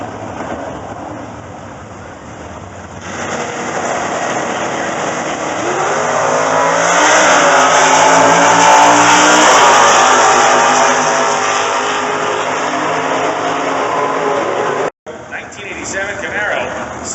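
A 1985 Camaro drag race car and its rival rev at pre-stage, loud sustained engine roar building and holding, then cutting briefly before resuming, with an announcer's voice over the top.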